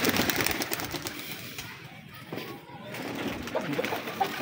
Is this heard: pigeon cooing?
yes